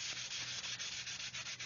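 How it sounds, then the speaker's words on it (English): A very fine sanding sponge rubs gently along the seam of a 1/144 plastic Saturn V rocket model, a close, soft, steady scratchy hiss with faint rhythmic strokes and no talk. "now I can get the really fine sanding sponge and just gently go around"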